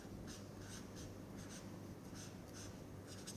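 A pen writes out maths by hand in quiet, steady strokes, soft scratchy scribbling that keeps going throughout with brief pauses between marks.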